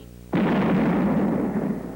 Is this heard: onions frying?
no